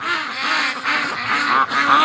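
Breeding ducks gathered near a shed in spring quack repeatedly and loudly up close, a steady overlapping chorus of nasal calls with no talking.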